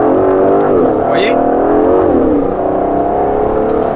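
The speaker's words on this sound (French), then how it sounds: "le V12 regorge de couple. Ce moteur est incroyable." Aston Martin DB11 AMR with its V12 engine and exhaust valve open, revving up and down loudly and steadily from inside the car, with someone talking over the engine.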